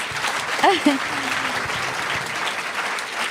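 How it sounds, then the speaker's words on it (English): Theater audience applauding at the close of a storytelling evening, sustained dense clapping from a large crowd with a brief voice calling out over it early on. "Another round of applause."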